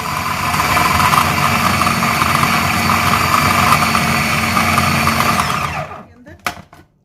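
An electric chopper whirs loudly and steadily as it chops mint and two medium onions for chicken shami kabab. The motor runs for about six seconds, then stops, followed by a few faint clatters.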